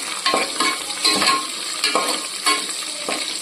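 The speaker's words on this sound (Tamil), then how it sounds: "4 பச்சை மிளகாவும் போட்டு வதக்கிடலாம்." Green chillies and cashews sauté in a pan with a light sizzle, broken by repeated stirring scrapes in a loose rhythm, close and fairly loud.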